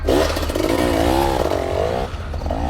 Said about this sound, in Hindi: कमल ने तेजी से अपनी बाइक स्लाइड की और पंडित के पैर में लड़कर बाइक सहित गिर गया।